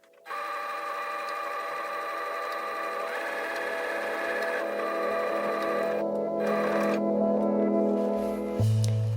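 A sewing machine stitches along the sides of a chair cushion cover, a steady close whirring hum that runs almost unbroken, shifting pitch slightly as the stitching speed changes, then stops near the end.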